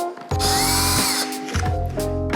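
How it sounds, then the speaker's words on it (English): A power drill whirs loudly in short bursts, speeding up and easing off several times as it bores a small hole into a plasterboard wall. "So next we're just going to drill a little hole where we've marked on the wall."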